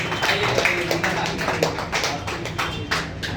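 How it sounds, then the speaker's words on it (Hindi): Clapping from an audience in a classroom applauding a student selected for a typing and efficiency test, a thin, uneven patter of hand claps at moderate loudness over low background murmur. "एक बार लक्ष्मी के लिए भी एक बार जोरदार तालियां।"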